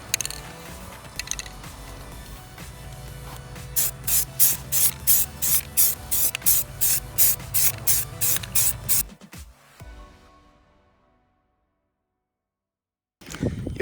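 Short rhythmic bursts of aerosol spray paint laying down a full primer coat on wheels, about a dozen hissing passes in steady succession over a low background hum, then fading to near silence.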